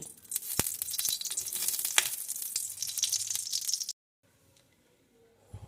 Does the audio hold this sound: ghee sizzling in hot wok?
yes